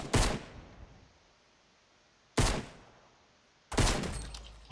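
Three booming gunshots ring out in Fortnite Battle Royale, each loud, sharp blast followed by a decaying tail, spaced about two seconds and then just over one second apart.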